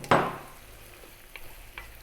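Cooked cold pasta hits a hot pan of broccoli mushroom cream sauce with a sharp sizzling burst, then gets stirred with a soft scraping, bubbling sizzle and a few faint utensil clicks.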